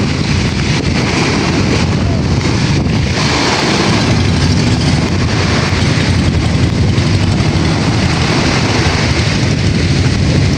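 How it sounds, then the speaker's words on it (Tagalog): A squid-fishing boat's engine runs at sea with a steady, loud, rumbling drone, heavily mixed with wind buffeting the microphone and constant water noise throughout. "Dito ninyo ay nakapag-pandar na rin po ng kanyang makina."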